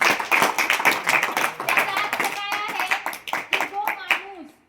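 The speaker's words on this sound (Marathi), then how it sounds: "सचिन दाहरी टाळ्या वाजवा." A group of children claps in rapid, uneven bursts at close range, with children's voices calling out over the clapping.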